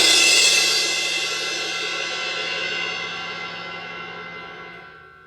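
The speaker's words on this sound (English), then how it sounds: "We have a 20-inch AA Raw Bell Crash." A single strike on a Sabian 20-inch AA Raw Bell Crash cymbal rings out bright and loud, its shimmering wash slowly fading over about five seconds, heard alone.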